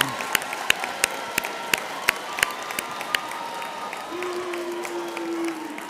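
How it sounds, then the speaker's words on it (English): A graduation audience at a spring ceremony applauds in a scattered, moderately distant round of clapping that gradually thins out, with a steady tone sounding underneath near the end. "So let's give our family and friends a big round of applause."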